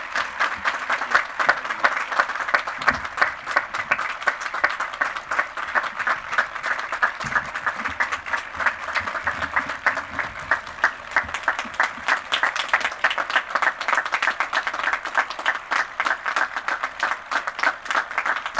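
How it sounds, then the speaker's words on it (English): A convocation audience gives long, dense applause welcoming a professor, steady loud clapping from many hands continuing without pause throughout. "the longer you clap"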